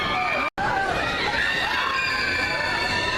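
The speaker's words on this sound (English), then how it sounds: "Another batch of people got under the pier. They're down there somewhere screaming." A crowd of people screams and shouts from somewhere under a pier, a continuous dense wash of distant voices filling the whole stretch with one brief dropout near the start.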